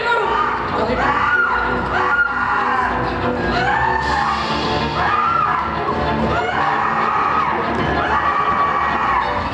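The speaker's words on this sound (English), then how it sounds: "The screams are coming from the billiard room!" Screams erupt from the cast during a high school stage production of the murder-mystery play Clue, a sustained crowd-like mix of shrieks and shouts filling the hall.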